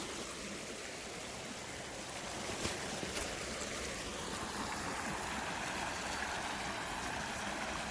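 Water rushes strongly over a beaver dam, a constant broadband roar with steady turbulent hiss, close and unbroken with no voices.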